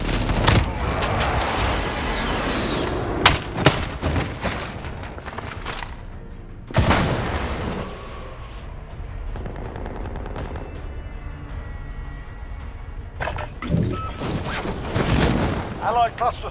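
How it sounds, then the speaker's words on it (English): Bomb explosions and gunfire from the Call of Duty Modern Warfare video game, with repeated loud bursts of shots and booming blasts in several clusters, under in-game radio voice callouts. "Enemy launched an advanced bomb."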